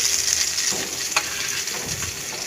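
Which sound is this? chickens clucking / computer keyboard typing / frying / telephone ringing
frying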